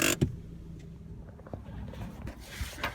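A Suzuki SX4 car rolling slowly into a driveway, with low engine rumble, tyre crunch and a few bumps and knocks, close up and fairly quiet throughout.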